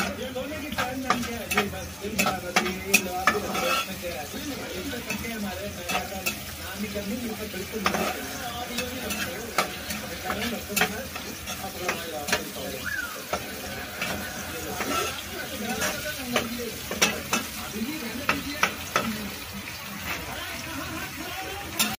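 Chopped onion and green chilli frying in a pan for a Bengali fish curry, a continuous sizzle with frequent sharp spatula strokes and pops throughout, fairly close.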